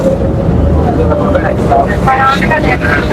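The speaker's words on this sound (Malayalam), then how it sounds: "ഭയങ്കര റോളിംഗ് ഉള്ളതുകൊണ്ട് ബോട്ട് ഒരഞ്ഞാണ് പോണത്" Rough, steady rumble of a boat rolling heavily through choppy water in Venice, Italy, with wind buffeting the microphone and splashes throughout.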